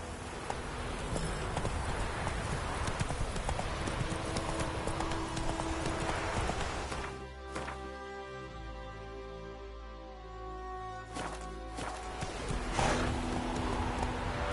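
Horse hooves clip-clopping at a gallop in a PS4 video game, a steady rhythmic drumming of hoofbeats up close that briefly gives way to game music midway before the hooves return.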